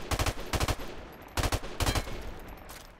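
Gunfire in an online shooter video game, four sharp rapid bursts of automatic shots in two pairs, loud and close, with no talk over them.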